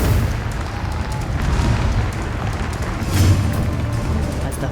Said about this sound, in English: As the pyrotechnics go inside the Singapore Indoor Stadium.